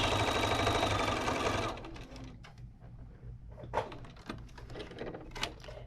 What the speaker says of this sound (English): I have my machine set up ready to go. I'm going to just go ahead and sew my 1/4 inch.